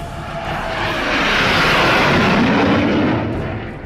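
Air Force fighter jets at an airstrip built into the Lucknow–Agra Expressway near Unnao, India; a loud, broad jet roar swells to a peak and then eases off over a few seconds, with no voices.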